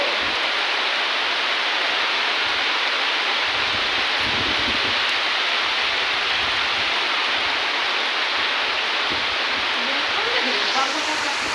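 Steady, dense downpour of monsoon rain pouring over flooded fields in front of a house, a broadband hiss that stays constant and fairly loud for the whole stretch with no voices.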